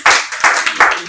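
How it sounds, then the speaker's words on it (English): An audience claps for group discussion participants, three quick bursts of close, fairly loud clapping in a short stretch. "let's give a big clap to them"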